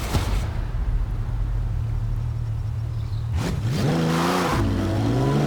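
A car in Forza Horizon 4 drones at a steady engine hum, then revs up sharply in a rising whine, eases off and climbs again, loud and close with no talking.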